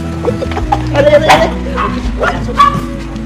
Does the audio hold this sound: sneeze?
no